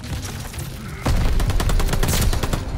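Gunfire in Call of Duty: Vanguard multiplayer, a loud burst of rapid automatic shots kicking in after a quieter moment and rattling on steadily with sharp repeated cracks.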